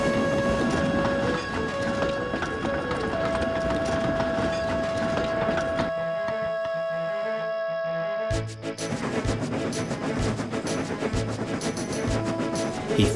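A goods train thunders along the tracks, a loud continuous rumble with clattering wheels and sustained tonal whines, briefly dropping then surging back.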